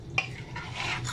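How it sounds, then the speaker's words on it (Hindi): A spoon scrapes and swishes around a pressure cooker, stirring spinach, mutton and whole spices in a short burst, close by, with a faint low hum underneath. "मिक्स कर लेते हैं"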